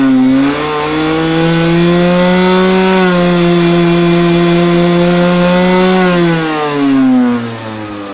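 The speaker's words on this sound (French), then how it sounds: "Donc maintenant je vais faire écouter une petite accélération." A Yamaha TZR motorcycle engine revs up close and loud, its buzzing note climbing steadily, holding high for several seconds, then dropping away as the throttle closes.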